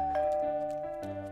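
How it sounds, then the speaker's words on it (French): A doorbell chimes in a French cartoon, a bright sustained electronic ding-dong tone ringing steadily and close, with a second strike near the end and no voices over it. "Oh, ça sonne à la porte!"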